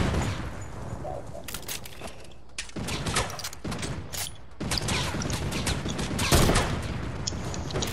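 Loud gunfire bursts in a video game battle, with several sharp shots and rattling volleys spaced across the stretch and little talk.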